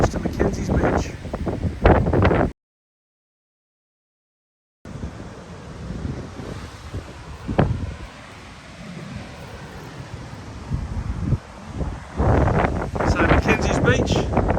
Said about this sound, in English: very windy, so apologise about the sound